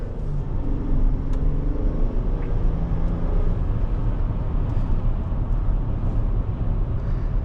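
A 2022 Chevrolet Traverse Premier V6 drones steadily from inside the cabin while driving, a loud low engine and road rumble with faint tonal hum and no clear revving, no one speaking.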